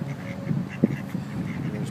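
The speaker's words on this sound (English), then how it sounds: "We have a ton of ducks." Ducks at a riverside park quack repeatedly at close range, several overlapping calls rising over low ambient noise.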